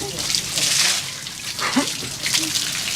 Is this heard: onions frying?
no